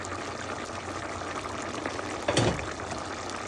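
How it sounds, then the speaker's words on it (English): Eggplant curry boiling in a pot, a steady bubbling hiss with one brief louder splash or burble near the end. "Now let this boil."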